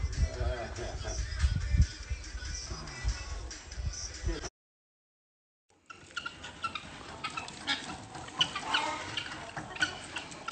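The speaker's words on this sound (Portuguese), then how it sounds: "Chama as galinhas." Chickens cluck on a farm, an irregular busy murmur of hens up close, with a short silent gap midway and shuffling movement around them.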